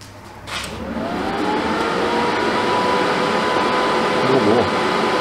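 Cooling fan of an Everlast 210 EXT welding machine in a workshop, a steady broadband hum and whir that holds even and continuous from start to finish, fairly close and moderately loud.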